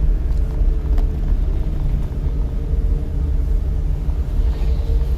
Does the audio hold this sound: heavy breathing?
no